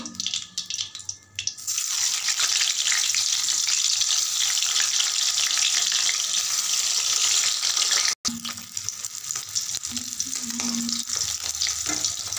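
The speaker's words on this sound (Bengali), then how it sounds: "এইভাবে আমি সব মাছটা ভেজে নেব।" Pieces of fish sizzling in a pan of oil during home cooking of a Rana fish dish, a continuous close crackling fry with a brief break near the end and some faint clinks.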